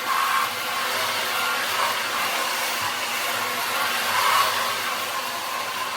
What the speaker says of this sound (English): I'm also making sure to vacuum under my bed as well.